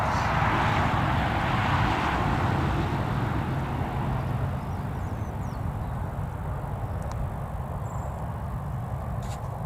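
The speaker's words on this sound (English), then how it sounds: "Looks like we've also got a prop holding short as well." A propeller aircraft holds short of the runway at Newcastle Airport, heard as a loud, steady engine drone with broad rushing noise that holds for the whole stretch, alone with no voices.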